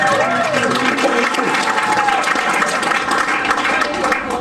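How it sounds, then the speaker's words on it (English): Audience at a comedy show breaks into a loud, dense wash of applause and cheering that fills the whole stretch, with a voice faintly audible at the start. "Let's give her a round of applause."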